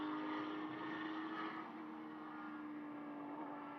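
A 5.2 litre V10 race car shared with its GT3 counterpart runs during GT Sprint qualifying at Mugello, a steady distant engine drone with a sustained tonal whine that eases slightly partway through.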